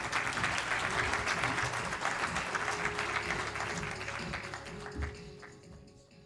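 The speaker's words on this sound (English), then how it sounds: "Mr. Jawed Ashraf, applause for the ambassador of the great nation that is India, ladies and gentlemen." Audience applause for a keynote speaker at a business forum, a dense, sustained burst of many hands clapping that gradually thins and fades toward the end.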